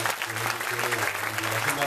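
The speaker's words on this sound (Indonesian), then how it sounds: "Tepuk tangan untuk ibu-ibu dari" Applause from the audience for a group of women at an Islamic religious gathering, a dense steady wash of many hands clapping with voices talking over it.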